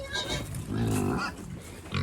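Pigs on a homestead grunting and snuffling close by at feeding time, a run of low rough grunts rising and falling over two seconds with no talk.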